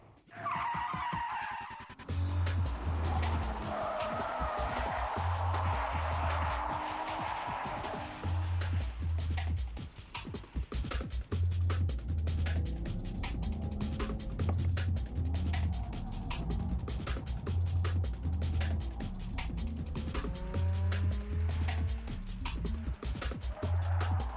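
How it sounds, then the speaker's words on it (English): A car drifts through corners as its tires squeal and skid repeatedly over a revving engine, with steady rhythmic background music throughout. "you lose the rear end, it goes into the drift, and then you control it with the power on the steering through the corner"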